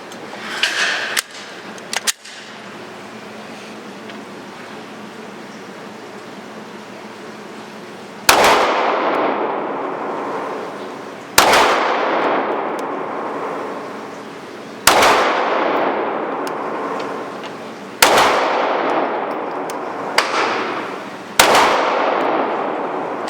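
An HK VP9 pistol fires five loud, sharp shots at a range, spaced several seconds apart, each with a ringing decay, after a stretch of quieter background noise.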